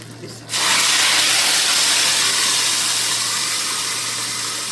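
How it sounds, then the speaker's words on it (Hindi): Sudden loud sizzle as spices hit hot oil for a tempering on Punjabi kadhi pakora, a bright continuous hiss that settles and fades slightly over several seconds. "ये देखें कितना ज़बरदस्त सा तड़का लगेगा"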